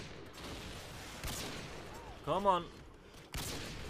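Sniper rifle fire in Call of Duty Modern Warfare 2: a few sharp gunshot cracks, one near the start and another late, among game noise, with a brief spoken exclamation between them.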